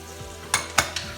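Sausage dropped into a pan with browned garlic, a steady low sizzle of frying broken by a few sharp stirring scrapes and clatters.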